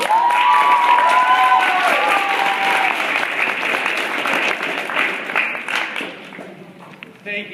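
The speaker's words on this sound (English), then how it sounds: "let's give a round of applause to all" An audience at a regional intermediate speech arts final gives the speakers a round of applause, loud, sustained clapping with some cheering that fades toward the end.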